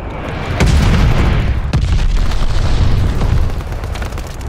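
Enemy glide bomb exploding in Call of Duty: Vanguard team deathmatch, a loud deep boom that hits sharply and then rumbles on heavily, with a second crack-like burst shortly after, all without speech.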